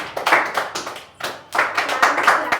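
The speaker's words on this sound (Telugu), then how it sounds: "all of the claps" A classroom of schoolchildren claps in two bursts of quick, uneven hand claps, close and fairly loud, with a brief lull between the rounds.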